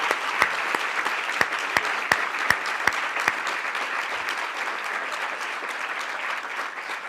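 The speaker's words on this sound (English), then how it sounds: "So let's give all of our sponsors a great round of applause" A luncheon audience applauds the sponsors, a steady wash of many hands clapping at moderate distance, with a few distinct sharp claps standing out over the first few seconds before the applause continues evenly.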